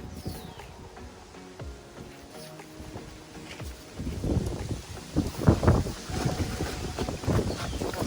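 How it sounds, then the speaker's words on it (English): Breezy wind blowing outdoors in a South Carolina garden, rumbling gusts buffeting the microphone that grow stronger and more turbulent in the second half. "It's really breezy."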